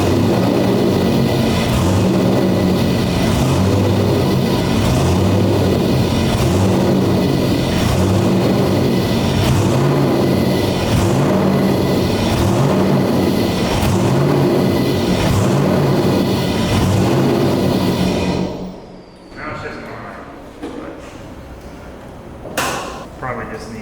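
A C6 Corvette competition drift build's engine holds a loud, pulsing idle with rhythmic throttle blips for most of the clip, then cuts off and quiet mechanical clatter follows.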